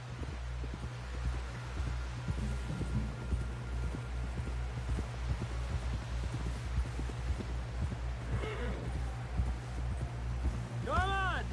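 Horse hooves clip-clopping in the video game Red Dead Redemption II, a steady rhythmic trot under constant low background hum and game music, with a few higher tonal sweeps near the end.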